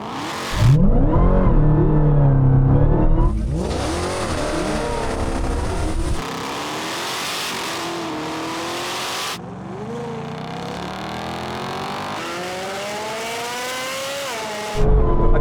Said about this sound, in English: Okay, so that Corvette is just faster,